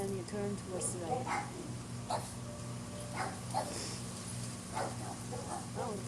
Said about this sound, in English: Oh, a bunch of dogs here.